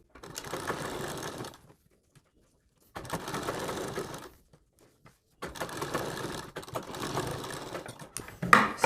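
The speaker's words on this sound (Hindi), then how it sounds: "अब आपको यहाँ पे एक कच्ची सिलाई लगानी थोड़ी देर के लिए, ताकि आप यहाँ पे बाद में पाइपिंग वगैरह बना सकें आसानी से।" A sewing machine running a temporary basting seam along a sleeve, heard in three separate runs of rapid mechanical stitching broken by silent pauses, fairly close and moderately loud.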